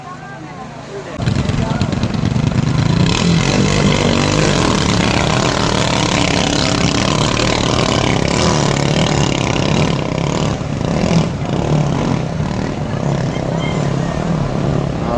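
Racing boat engines roar into acceleration at the start of a bankarera elimination heat in Albuera: a sudden loud surge of engine noise that holds steady, with excited commentary running over it.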